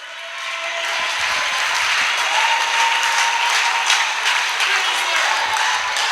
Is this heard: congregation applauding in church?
yes